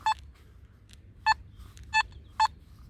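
A Nokta Makro Simplex metal detector sounds short, clear electronic beeps over a coin in a field, four brief tones spaced irregularly over a quiet background.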